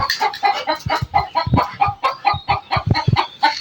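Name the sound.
chicken clucking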